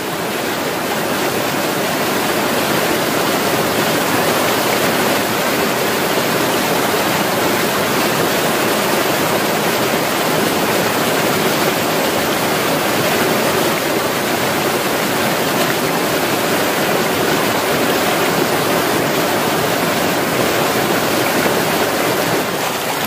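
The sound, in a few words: mountain river stream flowing toward a waterfall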